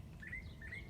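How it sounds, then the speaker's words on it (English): Two brief, thin bird chirps in a garden early in the morning, faint and slightly distant above a soft, steady outdoor hum. "Hear the birds."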